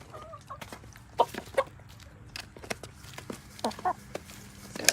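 Backyard chickens, with a rooster loose among them, give a scattering of short, sharp clucks at close range over a low, steady background hum.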